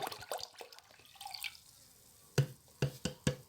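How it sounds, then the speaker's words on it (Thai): Water is mixed into a homemade ant and aphid killer, with soft splashes and trickles followed by a few sharp, distinct drips and plops, close and fairly quiet. "ผสมน้ำเข้าไป เดี๋ยวเราก็มากรองอีกที"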